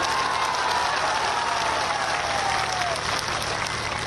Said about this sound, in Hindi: यह सच हो तो ताली बजाइएगा